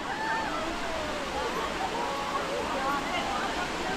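Cambugahay Falls, a waterfall in the Philippines, pours in a steady, broadband roar of rushing water, with faint voices and whistle-like tones riding over the continuous wash.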